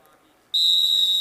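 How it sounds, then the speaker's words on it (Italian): Referee's whistle at an amateur football match, one sharp, loud, steady blast that starts abruptly after a quiet moment and holds on. "Il fischio dell'arbitro Rossini"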